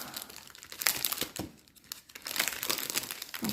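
Plastic packaging around embroidery thread samples crinkles and rustles as it is opened, in close bursts of crumpling with a brief pause in the middle and no speech.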